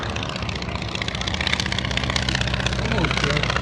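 An old piston engine idles on a home-built two-seat Starduster 2 biplane at a flying circus, a steady low throbbing hum running beneath someone talking nearby.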